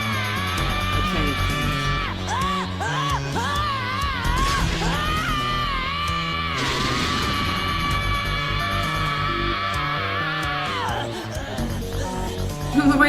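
A Dragon Ball character's drawn-out yelling scream while powering up, loud and continuous with rising, wavering pitch over a dense roaring backdrop of effects and music, breaking off abruptly near the end.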